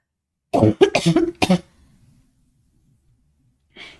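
A person coughs several times in a quick burst, close and loud, followed by silence and a faint short sound near the end.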